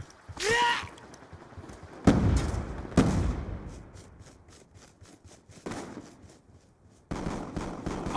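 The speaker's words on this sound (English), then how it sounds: "Grenade!" Grenade blast and gunfire in Call of Duty Black Ops II, a team deathmatch round: a sharp burst near the start, then two heavy booms about a second apart, followed by scattered shots and rumbling under battlefield noise.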